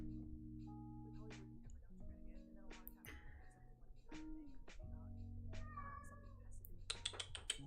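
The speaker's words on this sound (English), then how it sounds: "He meows, but he doesn't want me to pick him up." A cat meows several times in short, rising calls against quiet background music, with soft clicks and shuffling nearby.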